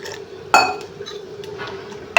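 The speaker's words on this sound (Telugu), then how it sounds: "కొన్ని వాటర్ పోసుకుంటూ కలుపుకుందాం" Dosa batter being mixed with salt while water is poured in, heard as a few sharp clinks of a spoon against a bowl over a low steady hum, close and sparse.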